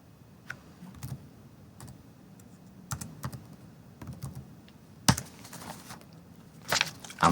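Commands are typed on a computer keyboard in scattered bursts of close, crisp key clicks with short pauses between them, including a few louder clacks near the end.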